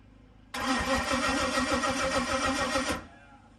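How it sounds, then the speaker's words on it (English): A big block Chevy V8 starter cranks loudly with a rapid chugging rhythm for a couple of seconds, then cuts off abruptly, close by. "just cranking it over for the first time to make sure that the starter engages right"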